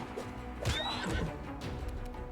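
A horse whinnies in the fantasy role-playing game Wrath of the Righteous, a rising and falling neigh heard over a steady bed of game ambience and background music.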